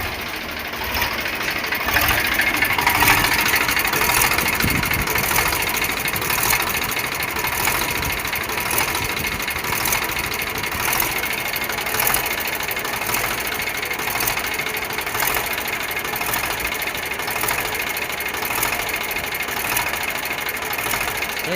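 Eicher 548 tractor engine idling at steady speed, a close, loud and continuous mechanical chug with a regular pulsing beat that keeps going without any voices.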